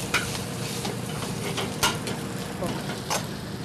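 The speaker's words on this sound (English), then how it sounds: "And in the other pan, we will start our sautéed spinach" Shallots and garlic sizzle and crackle in a hot pan as they toast for sautéed spinach, with a few clinks and scrapes of stirring, steady and close, with a voice speaking over the cooking.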